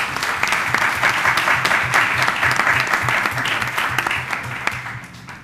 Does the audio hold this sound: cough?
no